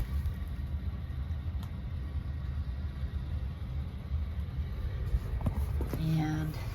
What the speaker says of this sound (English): that noise you hear is the air conditioner next door